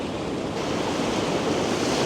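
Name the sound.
sea waves rushing in between rocks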